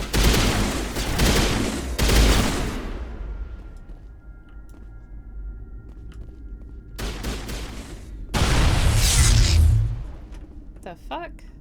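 A strange-sounding pistol fires in the video game Mass Effect 1 Legendary Edition, in loud bursts at the start and again near the end, with quieter gaps between. Speech can be heard over part of the clip.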